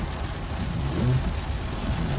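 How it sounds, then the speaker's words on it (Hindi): Heavy rain drums steadily on a car from the inside, a dense continuous wash of noise with a low rumble and no voices. "बहुत ज़्यादा बारिश हो रही है"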